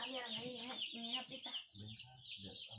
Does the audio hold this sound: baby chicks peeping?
yes